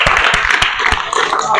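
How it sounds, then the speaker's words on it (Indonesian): Students in a physical education fitness class give a classmate a brief round of clapping, with sharp, uneven hand claps close by and a voice talking over them. "Tepuk tangan buat Muti"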